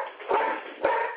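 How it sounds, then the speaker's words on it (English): A dog barks twice somewhere in the room. The short, sharp barks are about half a second apart and sound somewhat muffled and filtered, with no talking over them. "Sorry about that, that's the dog."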